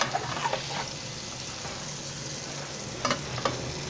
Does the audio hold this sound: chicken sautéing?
yes